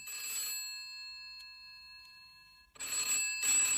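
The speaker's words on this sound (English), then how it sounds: "He was just about to lift the receiver when it rang." A telephone bell rings in two clear bursts separated by a pause of quiet, loud and close, with no voices.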